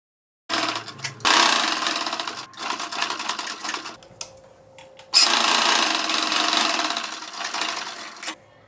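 A sewing machine stitches a frill onto a puff sleeve in two steady whirring runs, close and fairly loud, separated by a brief pause.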